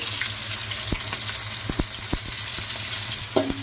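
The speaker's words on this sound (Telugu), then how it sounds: "చక్కగా ఇవి గోల్డెన్ కలర్ వచ్చేంత వరకు అయితే వేయించుకున్నామండి" Onions and green chilies fry in hot oil for a ridge gourd curry, a steady bright sizzle with several sharp spoon taps and scrapes against the pan, close and continuous, no talking.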